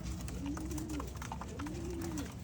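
Pigeons bought for racing stock, full-winged, cooing close by in two rising-and-falling calls, each about half a second long, over a steady low hum of background noise.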